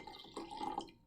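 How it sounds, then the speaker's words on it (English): Water pours into a drinking glass in a brief splashing, trickling stream that rises slightly in pitch as it fills, heard close and alone. "let's try adding some water to the next glass. I'll put a little bit more in this one."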